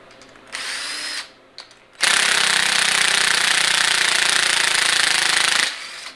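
Cordless impact gun breaking loose bolts on a turbocharged LC9 5.3 LS engine during teardown: a short rattling burst, a brief pause, then a loud sustained hammering run of about four seconds, close up.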